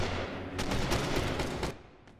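Guards' gunfire in the stealth game Mark of the Ninja rattles in a dense rapid burst of overlapping shots lasting about a second, loud and close, then cuts off with a single faint shot after.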